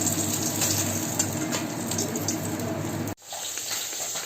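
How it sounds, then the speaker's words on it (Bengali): Fish shallow-frying in a pan, a dense, steady sizzle and crackle that runs loud for about three seconds and then cuts off abruptly, leaving only faint residual hiss. "আস্তে আস্তে সবগুলি মাছকে ভাজবো।"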